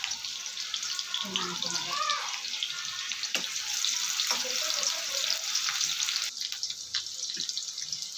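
Onions frying in oil in a pan for goat intestine masala, a continuous hissing sizzle at close range with a few watery crackles and low background voices.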